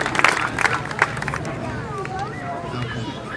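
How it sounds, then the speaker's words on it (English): Outdoor crowd applauding volunteers at a Little League opening day ceremony, scattered claps and cheers over steady crowd murmur and talk. "one more final round of applause for all our volunteers here"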